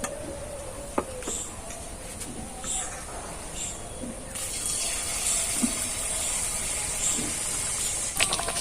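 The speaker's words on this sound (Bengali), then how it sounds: "এইভাবে করে আমি ভেজে নেব সবগুলোকে।" Rice appam batter frying in hot oil in a pan, a steady soft sizzle and crackle running throughout at moderate level, with occasional light clicks and taps of a utensil.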